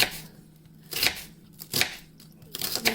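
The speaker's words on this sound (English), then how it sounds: "Now you can do it on a chopping board like so." A knife slices through onions on a chopping board in four crisp, separate cuts spaced under a second apart, close and clear with a quiet background.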